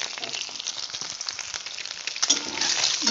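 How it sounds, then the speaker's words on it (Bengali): Egg frying in hot oil with a little turmeric powder stirred in, a steady close sizzle and crackle with no talk over it. "দেখুন আমার ডিমটা প্রায় ভাজা হয়ে এসেছে।"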